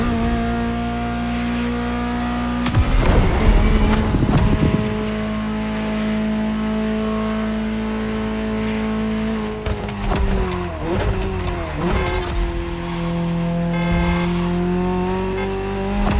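A Ferrari 308 GTO in The Crew Motorfest drives hard. A loud engine drone rises and falls through gear changes, with bursts of revving and tire squeal around the middle and again near the end.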